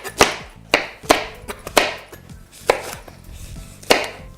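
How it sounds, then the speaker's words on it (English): Knife chopping red chilies on a cutting board while making a crab curry, with about eight sharp, separate chops at an uneven pace, close and clear, and no talking. "chop this a little bit"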